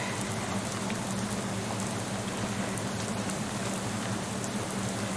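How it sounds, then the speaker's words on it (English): Loud, steady rain pours down continuously with dense hiss and patter on surfaces, close and unbroken. "That rain is loud."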